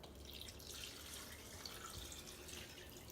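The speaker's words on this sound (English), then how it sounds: "this is all the juice that it cooked in. So I am gonna just pour that" Turkey cooking juice is poured over pulled turkey meat, a faint continuous liquid trickle and splatter at close range.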